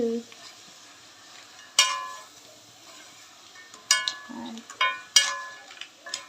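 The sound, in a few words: stirring crab roast in a pan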